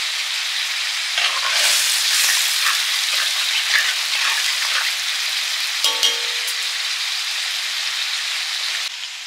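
Fish curry cooks in a pan after water and cumin-coriander paste are added, giving a continuous close hiss and sizzle with occasional bubbling pops and a brief clink of a utensil.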